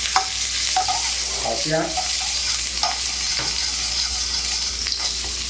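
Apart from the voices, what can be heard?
ginger shreds stir-frying in sesame oil in a wok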